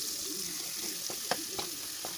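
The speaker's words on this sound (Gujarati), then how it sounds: "હવે આ ડુંગળી નાખી દીધી છે" Finely hand-chopped onion frying in a pan with tomatoes while it is stirred, a steady close sizzle with a few light spoon taps against the pan.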